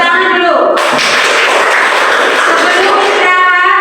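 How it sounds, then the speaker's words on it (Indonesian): Classroom applause during a teaching simulation, a dense burst of many hands clapping near and loud, with voices and speech-like tones at the start and end. "Tepuk tangan dulu."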